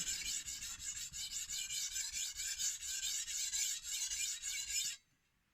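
A knife edge is stroked across a Naniwa Chosera 400 whetstone to raise and flip the burr, a rapid run of rhythmic gritty rasping strokes up close, stopping abruptly near the end.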